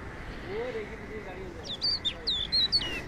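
Birds, including seagulls, call at Dahariz beach in Salalah, a few short high chirps and squeals clustered in the second half over soft shoreline noise, faint and moderately distant.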